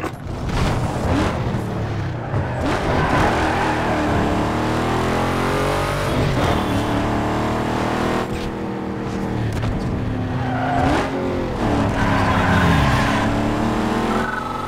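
Race cars in Need for Speed Underground 2 street racing roar past, with loud, layered engine revs and pitch sweeps as cars accelerate and shift, plus brief skidding, sustained throughout.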